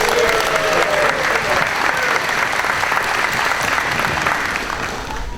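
An audience at a YMCA event honouring Norm Major gives a loud, sustained round of applause, with a dense crowd clapping close by and fading slightly at the end.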